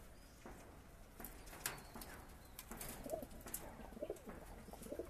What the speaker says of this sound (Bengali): লক্কা সমস্ত পায়রাই রয়েছে, প্রত্যেকটা পায়রাই রয়েছে